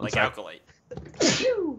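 A single sharp sneeze bursts out loud and close after a stretch of talk, its breathy onset dropping into a falling vocal tail during a card-game set review.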